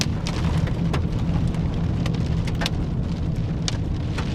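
Rain and hail fall during a Colorado supercell storm, a dense steady patter under a low rumble with scattered sharp ticks of hailstones striking.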